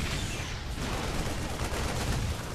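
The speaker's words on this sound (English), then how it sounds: "Another Stalker shooting from below" Stalker units firing in StarCraft II, a dense continuous barrage of crackling weapon shots and combat noise that stays loud and steady from start to finish.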